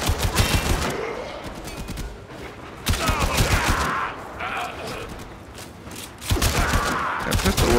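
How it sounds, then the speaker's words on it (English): Rapid pistol fire in the video game Warframe, several loud bursts of shots separated by quieter gaps with mechanical clatter, close and dominant. "That pistol works pretty damn good."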